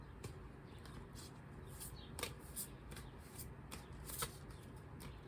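Glossy Tarot Obscuro cards being shuffled by hand, a soft, slippery riffling hiss with a few sharper snaps near the start and toward the end, close and fairly quiet, with no voice.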